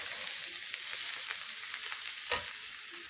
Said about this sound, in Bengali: বন্ধুরা মশলা দিয়ে ভাজা ভাজা করে নিলাম